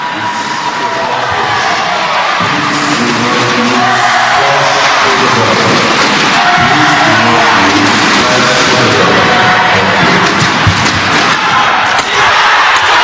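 Home crowd at a SEA Games men's team badminton semi-final, loud and continuous cheering and chanting from a packed hall with rhythmic clapping and thundersticks throughout.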